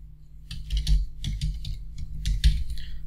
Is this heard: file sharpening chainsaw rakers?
no